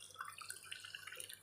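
Hot water is poured into a bowl while hibiscus-flower rasam is being made, a short, faint, close trickle with small dripping splashes and no voices.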